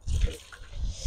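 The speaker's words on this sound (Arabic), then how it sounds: "نخوي هاد المي" Hot water is poured off couscous made from rice while it cooks over a wood fire, a short close splashing rush and trickle with no talk.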